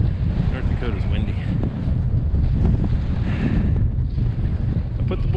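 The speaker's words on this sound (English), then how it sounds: "North Dakota's windy." Strong wind batters the microphone outdoors in North Dakota during an upland bird hunt with Boykin spaniels, a steady, loud, rumbling roar that fills the whole clip without easing.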